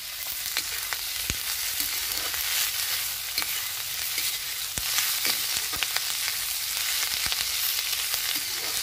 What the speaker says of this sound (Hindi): सबसे पहले हमें शिमला मिर्च भूनते हैं।